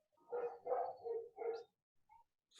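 A dog barks four times in quick succession, fairly close and loud, followed by a fainter short yip or whimper, with no talking over it.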